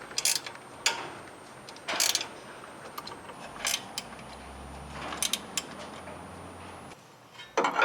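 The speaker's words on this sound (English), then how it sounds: "it can now be secured to the axle using a pair of 1/2-inch wrenches." Ratcheting clicks from a pair of 1/2-inch wrenches tightening bolts that secure a bump stop extension to a Jeep JL Wrangler axle, coming in several quick bursts with quiet gaps between them.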